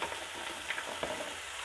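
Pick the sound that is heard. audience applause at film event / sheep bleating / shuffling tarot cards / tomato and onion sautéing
tomato and onion sautéing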